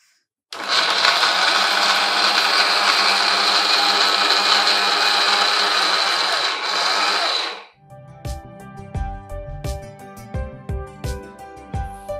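A mixer grinder whirs loudly and steadily for about seven seconds as it blends jaggery with urad dal flour, then stops, followed by a run of quieter knocks and rattles.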